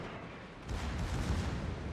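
Heavy gunfire rumbles through a naval battle in a video game, a dense continuous roar of booming shots that swells partway through and stays loud.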